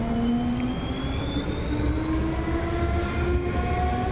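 A tram passing on a city street, a steady loud rumble with a thin, sustained wheel whine drifting in pitch over the noise, continuous and close.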